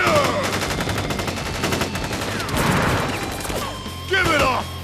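Troops unleash rapid volleys of gunfire in Crisis Core: Final Fantasy VII Reunion, dense machine-gun bursts hammering continuously and loudly across the scene, with brief crashes and battle effects layered on top.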